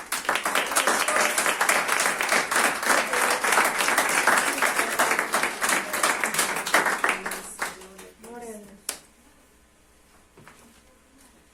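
A church congregation claps and applauds together as an offering to the Lord, loud and sustained for about seven seconds before fading into scattered claps, murmuring voices and quiet room tone.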